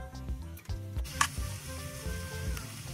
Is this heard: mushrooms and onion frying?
yes